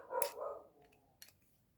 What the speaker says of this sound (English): there's a dog woofing